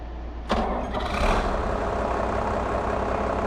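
An older farm tractor engine cranks briefly and fires, then catches and settles into a steady, rumbling idle heard close and fairly loud.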